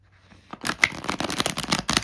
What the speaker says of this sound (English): we're going to go ahead and shuffle our clarification deck